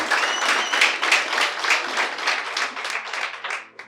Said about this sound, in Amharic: ሞቅ አድርጋችሁ ለማቴ አጨብጭቡ።